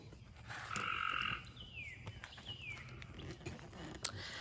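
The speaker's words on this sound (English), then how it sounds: "Okay, the frogs are croaking." Frogs croak outdoors in a vegetable garden in late May, one loud rasping call early on followed by scattered quieter croaks and chirps across a soft ambient background.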